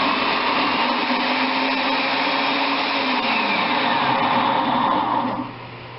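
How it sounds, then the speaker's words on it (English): A food processor shreds cauliflower for a low-carb pizza crust, giving a steady, loud motor whir with grinding texture that holds for several seconds, then drops off sharply near the end. "now we are going to start shredding the cauliflower to make the crust for the low carb pizza"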